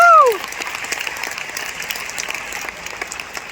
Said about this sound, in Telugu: సోదర సోదరీమణులందరూ పెద్ద ఎత్తున చప్పట్లతో డాక్టర్ సతీష్ గారికి జన్మదిన శుభాకాంక్షలు తెలియజేయాల్సిందిగా కోరుకుంటున్నాను